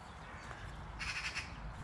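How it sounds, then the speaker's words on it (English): A magpie calls in Walton Park, a few harsh chattering notes at moderate distance over a steady outdoor hiss. "The sound of a magpie."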